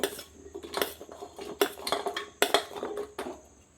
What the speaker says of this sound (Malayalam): ഇത് നമുക്ക് കുക്കറിലേക്ക് ഇട്ട് കൊടുക്കാം